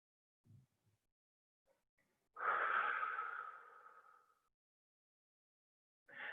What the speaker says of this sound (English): Breathe in through the nose. Breathe out through the mouth.